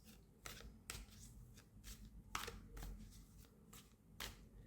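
Tarot cards are shuffled by hand in a quick run of crisp riffling bursts at an uneven rhythm, close and fairly soft, with no talking.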